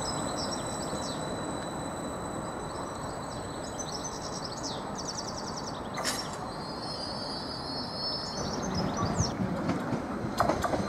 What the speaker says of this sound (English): M55419 is now arriving to platform 2 en route to Stansted Airport.